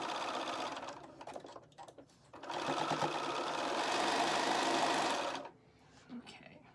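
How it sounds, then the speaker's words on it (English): A sewing machine stitches a charm pack quilt block from the center outward, running in a short burst, pausing briefly, then whirring steadily for about three seconds before stopping. Faint background sound fills the gap. "We're going to stitch from the center, okay?"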